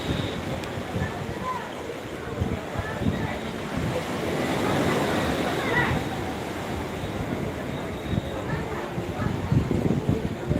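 Surf rolls and washes continuously on Old Digha beach at night, a broad, steady roar with wind buffeting the microphone and faint voices in the background.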